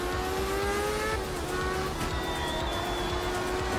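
Racing video game car engine revving steadily with a held, rising engine tone, loud and continuous with no talk over it.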